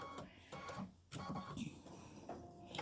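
Embroidery machine stitching a flip-flop placement outline in black thread on fabric, a steady mechanical chatter with rhythmic pulses, close and moderately loud, with no talk.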